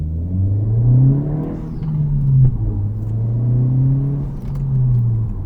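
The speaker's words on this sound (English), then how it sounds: "Not a hard launch, but just a spirited launch" A 11th-generation Honda Civic Si engine revs and pulls hard from a launch, its pitch climbing, dipping at the first-to-second gear change, then climbing again, loud and close.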